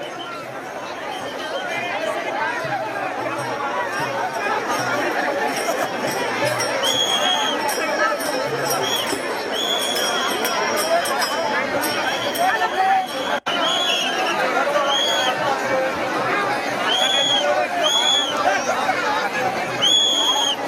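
A large crowd of devotees chatters and murmurs at a palanquin procession on the Pandharpur pilgrimage, a steady outdoor hubbub with scattered higher calls and voices throughout.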